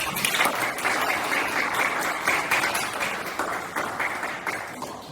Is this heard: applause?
yes